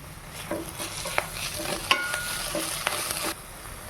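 Vegetable bhaji seasoned with salt and chili powder is stirred in a pan, producing a soft sizzle under repeated scraping and clinking spoon strokes spaced through the clip, ending abruptly.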